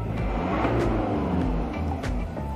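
Car engine revved while parked, a steady loud mechanical drone that swells slightly and settles, with faint higher whines over the low rumble.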